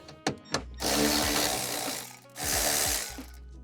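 A powered socket tool undoes 8 mm bolts inside an L322 Range Rover, with a couple of short clicks followed by two loud, whirring bursts close by.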